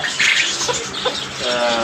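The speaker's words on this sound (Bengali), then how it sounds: "এই দোকানে সুন্দর সুন্দর দেশি মোরগ পাওয়া যাবে" Native roosters cluck briefly at a small shop, giving a few short, close calls over low background noise.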